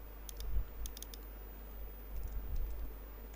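Someone types text on a computer keyboard with quick soft clicks in two short bursts and a pause between them, close up and quiet over a low background hum.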